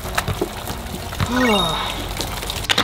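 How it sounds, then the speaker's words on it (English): A gallon of milk is poured over a person's head during a dare challenge, a short gushing, splashing pour in the middle, framed by small close handling noises. "Pour a gallon of milk over your head."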